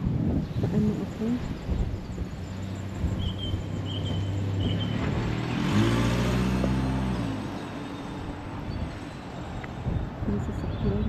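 A car passes close by on a blustery day, its broad rumble rising and fading over roughly five seconds beneath steady wind noise and faint cricket chirps.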